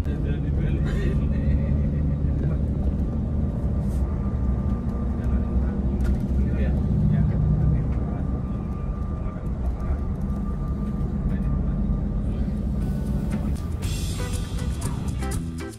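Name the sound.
Sinar Jaya sleeper bus driving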